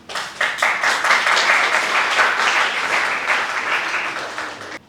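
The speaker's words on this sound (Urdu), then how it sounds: "آپ سب کی بھرپور تالیوں میں عفیفہ فیاض" An assembly audience in Lahore breaks into warm applause to welcome a young speaker, the clapping swelling quickly, holding steady and dense, then tapering off near the end.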